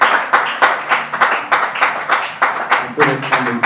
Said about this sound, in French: Tu peux acclamer pour Jésus.